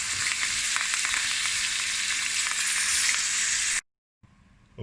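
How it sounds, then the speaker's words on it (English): A T-bone steak fries in a cast-iron pan while being basted with butter and garlic, giving a loud, steady, close-up sizzle and crackle that cuts out abruptly near the end before the sizzle briefly returns. "all we're going to do is just baste this butter, a nice beautiful mixture"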